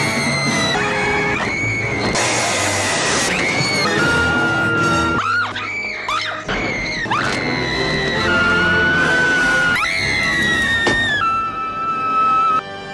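A woman's shrill, repeated screams from a Batman film, rising and falling over about thirteen seconds, with other movie sound beneath.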